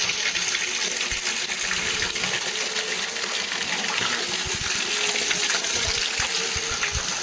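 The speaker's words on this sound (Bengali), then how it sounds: "দেখো বৃষ্টি এখনও কিন্তু হয়ে যাচ্ছে" Heavy rain pours down steadily around a village home beside a swollen river, a dense, continuous wash of falling water that holds at an even level throughout, with no voices.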